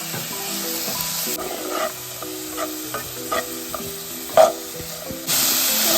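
Sliced onions sizzle in hot oil over a high flame as a spatula stirs them in a pan for street-style green peas egg masala; steady frying hiss with irregular scraping strokes, close and alone.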